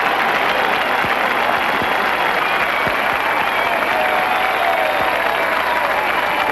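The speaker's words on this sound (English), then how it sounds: "Listen to the applause." Steady, sustained applause from a large crowd at the 1984 Los Angeles Olympic Games, a constant roar of clapping that never lets up.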